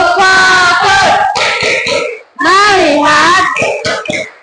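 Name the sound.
children clapping the 'tepuk fokus' clap chant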